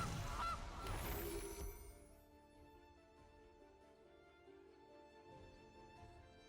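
A goose honks in a video game match: a loud burst of honking and noise in the first two seconds, fading to a quiet game background.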